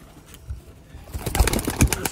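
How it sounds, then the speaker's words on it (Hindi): Rooftop pigeons from a Sialkot breeder, with low soft coos and a brief flutter of wings near the microphone, mostly in the latter half after a quieter start. "आ छत वाले कबूतर आ चुके हैं दोस्तों मेरे हाथ च"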